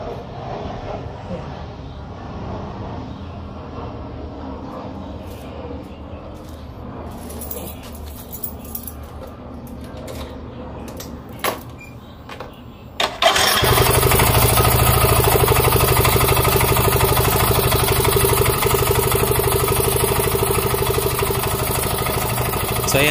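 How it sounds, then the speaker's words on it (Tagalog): A Yamaha Mio Soul i 125 CVT scooter engine starts after a stretch of quieter handling noises and clicks, then runs loud and steady at close range with a dense, rough roar. "kung naririnig nyo, sobrang ingay ng ating makina"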